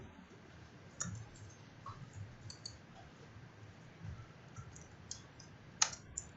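Sparse keystrokes on a computer keyboard while working in a terminal, a few scattered clicks with a louder cluster near the end, quiet and alone against faint room hum.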